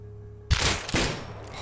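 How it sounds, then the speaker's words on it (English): Two sharp gunshot blasts from the survival game Rust, close and loud, the second following about half a second after the first, each with a brief decaying tail, set during a base raid with no talking. "Early shots from the Riddler."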